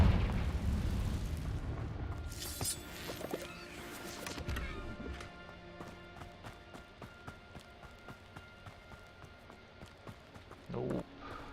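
A Confringo spell explodes in a video game with a heavy booming burst at the start, then rumbling debris and a run of light, evenly spaced thuds like footsteps, ending in a brief low thump.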